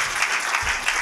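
Audience applause ringing out at a French-language religious gathering in praise of God, steady dense clapping across a short burst with a low crowd rumble underneath.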